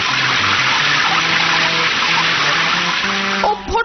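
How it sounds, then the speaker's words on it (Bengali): A stream of dirty water pouring down in a steady rushing gush, loud and close, breaking off into splashes at the end. "আর এই শেষ রাউন্ড হলো নোংরা জলের ধারা বর্ষণ।"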